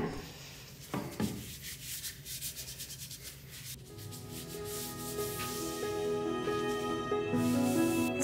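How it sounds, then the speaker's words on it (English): Wax is rubbed by hand onto a homemade wooden bow, producing close, rhythmic rubbing strokes that smooth into a steadier, louder friction toward the end, without talk. "I'm just adding a little bit of wax just to make the grain pop"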